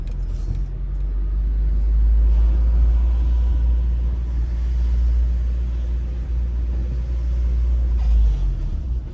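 Steady road traffic rumble on a freshly paved street in Philadelphia's Elmwood neighborhood: a loud, continuous low drone of a nearby car in motion, swelling slightly and easing, with no voices.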